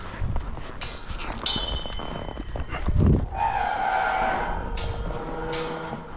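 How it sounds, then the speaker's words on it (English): An Angus calf moos in a drawn-out, nasal call amid outdoor rustling and a low thump on a ranch, with farm background noise throughout. "I think that's that other Angus cow's calf"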